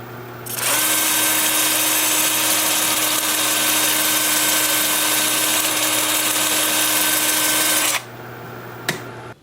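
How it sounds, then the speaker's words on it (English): An angle drill spins up with a 2-inch 80-grit sanding disc grinding against a cherry wood bowl, a steady whining buzz for several seconds, then it stops abruptly. "with 80 grit on my 2-inch sanding disc on my angle drill"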